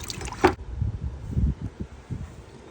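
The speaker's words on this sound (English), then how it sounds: "I'm gonna soak the pumps a little bit just to make sure that it has some lubricity inside of it." A Ford F-150 water pump (2009–2014 model) being soaked in liquid: a brief splash at the start, then soft, intermittent gurgles and bubbling, faint and close, with no talking.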